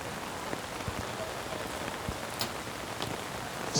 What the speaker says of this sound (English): as the rain comes down even harder